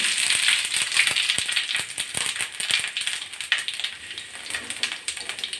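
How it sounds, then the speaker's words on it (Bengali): Panch phoron whole spices dropped into hot white oil in a wok, crackling and spattering densely and continuously, close and fairly loud. "আমি প্রথমে এক চামচ পাঁচ ফোড়ন ফোড়ন দিচ্ছি তেলের ভিতরে"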